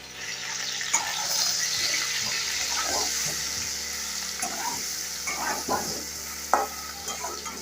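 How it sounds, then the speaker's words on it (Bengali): Potatoes with salt and turmeric frying in mustard oil, a moderate steady sizzle with scattered stirring knocks and spits, no voices. "আলুটা ভাজা হয়ে গেছে"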